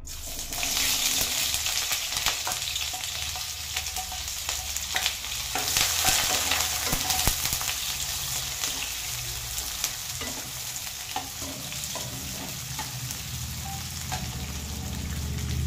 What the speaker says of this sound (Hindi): ऑयल हमारा गर्म हो चुका है अब हम इसमें लंबा काटा हुआ प्याज डालेंगे